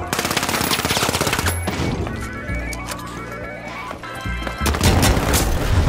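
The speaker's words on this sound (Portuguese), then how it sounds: "Eu tô tomando tiro de tudo que é lugar." Rapid automatic gunfire and crashing impacts from a chaotic firefight in the video game The Finals, loud and dense throughout with booms and smashes layered over the shots.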